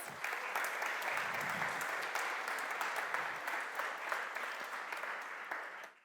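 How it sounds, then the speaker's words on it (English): A conference audience at a JavaScript event gives the sponsors a big round of applause, dense continuous clapping at full strength that cuts off abruptly at the end. "Big round of applause, please."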